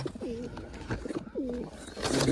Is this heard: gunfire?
no